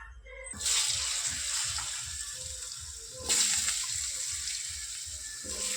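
Water is poured steadily into a cooking pot of meat being braised in a home kitchen, a continuous splashing hiss in two bursts, with a low rhythmic thumping running underneath.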